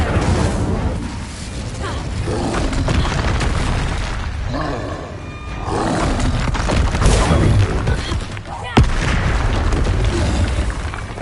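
Blasting-spell explosions from the Hogwarts Legacy game on PS5, a dense run of booming bursts and crashes under game music and effects, with one sharp loud crack near the end.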